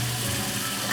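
White wine sizzling in a hot pan with a beef mixture, a steady soft hiss close by with no talking, continuous for a brief moment.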